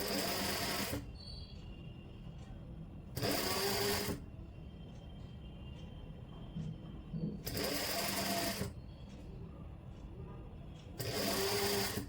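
A sewing machine stitches piping onto a suit in short loud bursts of rapid whirring, with quiet pauses between runs and faint background sound.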